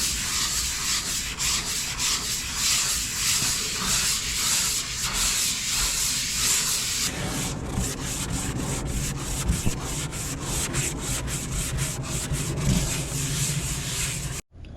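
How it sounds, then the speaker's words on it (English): A small block wrapped in 320-grit sandpaper is rubbed by hand over cured epoxy primer on a repaired speaker hole, giving close, steady rhythmic scratching strokes that quicken into shorter, faster passes partway through. "Gonna take 320 sandpaper with this little block and get it sanded down"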